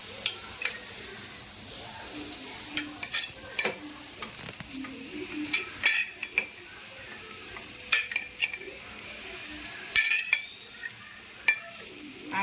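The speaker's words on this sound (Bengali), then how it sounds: "এখন আমি ভেজে রাখা আলুগুলো দিয়ে দিচ্ছি" Fried baby potatoes are stirred into spiced masala in a pan, a soft sizzle beneath repeated scraping and clinking of a spatula against the metal, irregular and close, with no talking.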